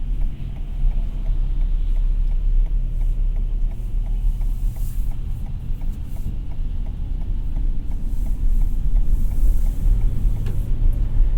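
A 2021 Toyota Sienna cruising at highway speed on a wet road, with a steady low road rumble and engine drone inside the cabin, continuous and fairly loud throughout, with no talking.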